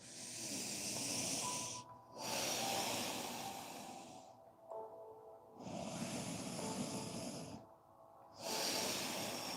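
Slow, deep breathing through the nose during a yoga session, heard close and soft as long hissing breaths separated by brief quiet pauses, about four or five breath phases with no talking.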